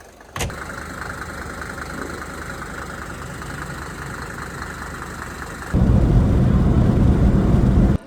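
A Mercedes W124 engine idling with its engine shield removed, a steady close mid-pitched hum that turns much louder and rougher near the end, then cuts off.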